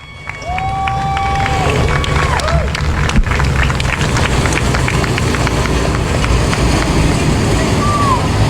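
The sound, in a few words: crowd applause at a speedway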